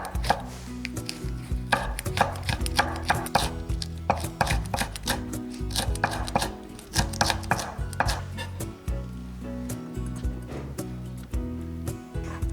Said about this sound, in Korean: 냉이를 2cm 간격으로 썰고 홍고추와 청고추도 같이 썰어 둘게요.